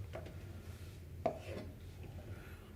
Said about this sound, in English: I'm just going to slice this to pieces